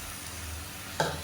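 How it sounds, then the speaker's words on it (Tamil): Sizzling sauté of a kara kuzhambu base with radish and drumstick, steady frying hiss with a sudden louder burst near the end as blended hybrid tomatoes hit the hot pan, then a second smaller splash. "இப்போ மீடியம் சைஸாக ஒரு மூணு தக்காளி மிக்சியில் அடித்து வச்சுருக்கேன் அதை சேர்த்துக்கலாம்"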